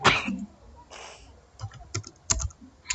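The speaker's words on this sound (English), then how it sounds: "let me type" Keys clatter on a computer keyboard in a few short, uneven bursts of clicks, fairly close, with a brief breathy noise near the start and no talking.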